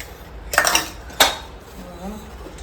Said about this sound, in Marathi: चला पटापट भांडी घासते